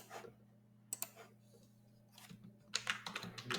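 Quiet computer keyboard typing while writing C code, a few isolated key clicks and then a quick burst of taps close by over a low steady hum, with no speech.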